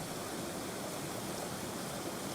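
A waterfall in a woodland river pours in a steady, dense rush of water, continuous and even with no breaks or other sounds.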